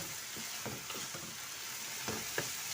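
Ridge gourd and onion frying in ghee give a steady, soft sizzle, with occasional light scraping as they are stirred in the pan. No one speaks.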